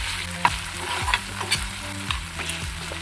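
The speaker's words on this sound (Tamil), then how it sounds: "இந்த கையாலே கரண்டியாலே மசிச்சு விடணும்" Tomato masala for a dried-fish thokku is sautéed in a pan and mashed with a ladle. Repeated scraping and thudding strokes land over a steady sizzle, close and clear, with no talking.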